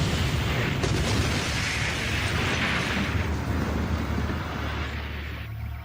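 A huge blast at an ammonium nitrate warehouse in Beirut, heard as a sustained, loud roaring rumble with crackling debris that slowly tapers over several seconds.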